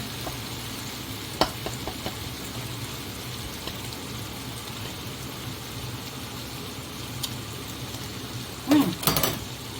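Catfish stir-fried with chili and tamarind gives off a steady, close sizzle and hiss, with scattered spatula taps and a brief burst of scraping near the end.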